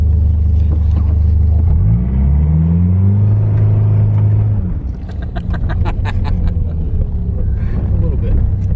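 A Mitsubishi Eclipse GSX all-wheel-drive car rumbles loudly and revs, its engine pitch rising and falling on light snow, with people talking over the steady drone.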